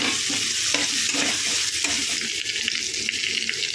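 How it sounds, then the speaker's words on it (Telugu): Green chillies and onions frying in a pan for a meal maker kurma, a loud close sizzle with frequent rhythmic stirring scrapes and no voices. "కొంచెం పచ్చిమిర్చి ఆనియన్స్ వేసుకున్నాం కొంచెం పదినా కొంచెం ఫ్రై అవ్వాలి"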